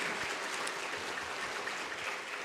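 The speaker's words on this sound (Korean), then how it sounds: "우리 귀한 말씀 전해주신 강사 목사님께 우리 감사의 박수 한번 보내드리시죠" Church congregation applauding a guest pastor after a Sunday afternoon worship sermon, with a steady, dense wash of clapping throughout and no voices over it.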